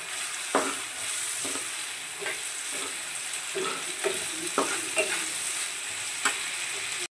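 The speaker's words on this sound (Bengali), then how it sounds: "পরে আমি পেঁয়াজটাকে লাল লাল করে ভেজে নেব" Onions fry in mustard oil with a bright, constant sizzle, punctuated by regular soft scrapes and taps of a spatula stirring them, close up and without talk.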